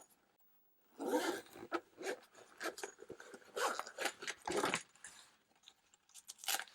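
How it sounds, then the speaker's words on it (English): A zipper pulled closed around a Nintendo Switch travel case, a run of quick rasping bursts repeating over several seconds, close and fairly quiet with no talking. "And then we can close these zippers."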